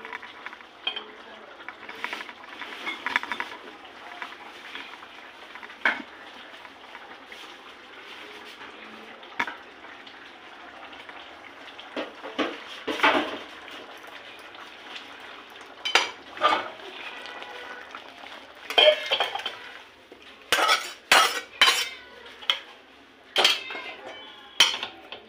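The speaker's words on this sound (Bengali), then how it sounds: "এবার একটা পাত্রে এবার এটাকে আমি ঢেলে নেব" Prawn and squash curry leaving a pan for a bowl, with metal spoon scrapes and clinks against the cookware and a faint sizzle, sparse at first and then busier with clatter toward the end.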